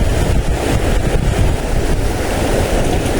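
Big ocean waves surge and break near a rocky shore spot used for shore casting in Real, Quezon, a loud continuous wash of surf mixed with wind buffeting the microphone.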